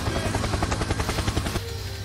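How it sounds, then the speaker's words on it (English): A helicopter in the bullet-hell video game Touhou gives off a rapid, steady rotor chop, a loud pulsing thrum that cuts off abruptly partway through, layered over constant game noise. "Helicopter! Helicopter!"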